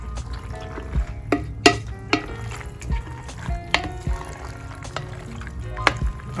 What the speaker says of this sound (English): All right, so stir this together.